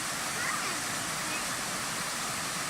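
A large waterfall roars in the woods as a steady, dense wash of falling water, continuous and fairly close.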